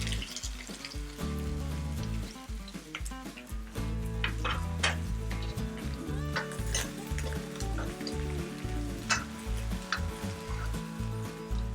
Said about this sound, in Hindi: इनके तड़कने पर हम ये प्याज और अदरक डालेंगे